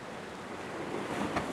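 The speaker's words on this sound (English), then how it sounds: "Seas aren't terribly bad today. They are splashing" Sea waves splash steadily against a rocky jetty in moderate seas, a constant loud broadband wash with wind buffeting the microphone and a slightly stronger surge near the end.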